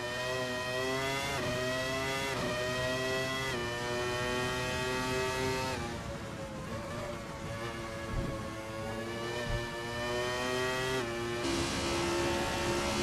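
A Formula 1 car engine in the Assetto Corsa racing game drones loud and steady, its high harmonic whine climbing in pitch through each gear and dropping sharply at several shifts, with no talk over it.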